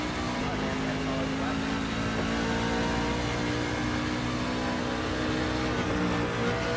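A racing truck engine in the sim game iRacing drones steadily at high revs, loud and continuous, with a sustained mechanical hum and no pauses.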